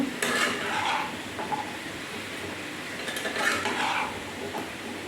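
A spatula scrapes and clinks in an oiled pan of drumstick, plantain, potato, carrot, papaya and sweet potato pieces, a few soft stirring strokes over a faint sizzle.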